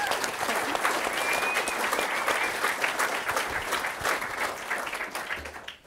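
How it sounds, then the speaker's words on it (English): An audience at the 2010 New Zealand Open Source Awards gives sustained, loud applause for the finalists. The clapping holds steady and begins to fade near the end. "You may clap them now"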